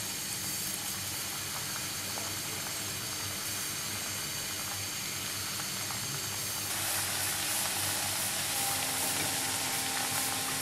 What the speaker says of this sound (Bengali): আমি একটা কড়াইয়ে তেল গরম করে নিয়েছি এবার আমি ইমোজিগুলোকে এভাবে ছেড়ে দেব